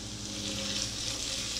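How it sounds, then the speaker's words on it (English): Anchovy fillets hiss and sizzle steadily in hot oil in a frying pan, a close, constant crackling fry with no break and no talking. "We're going to add 4 anchovy fillets."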